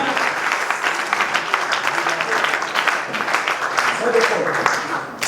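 A church congregation applauds and acclaims the Lord, with loud, dense clapping from many hands sustained throughout, mixed with crowd voices and shouting.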